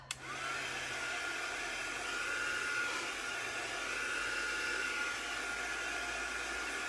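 A hair dryer roars steadily right up close as it dries an 18 by 24 inch painted canvas. It switches on with a click and a brief surge, then holds an even blowing whine throughout.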